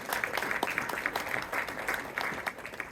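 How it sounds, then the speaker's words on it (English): Clapping fills the chamber at a city council meeting in Merriam, Kansas, as a steady, moderately loud round of applause from the audience with no pauses. "So let's give a round of applause to Joey."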